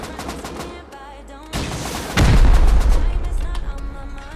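Gunfire in the survival game Rust: rapid repeated shots and heavy bursts, growing louder toward a dense volley, with a voice speaking over it.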